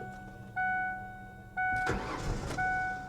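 A 2015 BMW 750i is cranked repeatedly. Several whining starter attempts come with warning chimes, then the engine catches and fires up with a rough burst before the chimes return.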